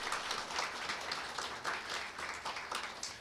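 Applause for award recipients at a Jongno District Office staff meeting ceremony, fairly faint but sustained clapping from a modest group, pulsing slightly across three seconds.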